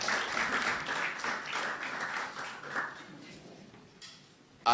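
Audience applause at a Falling Walls Lab event in Ghana, a dense crowd clapping that fades gradually over several seconds before a brief loud noise at the very end.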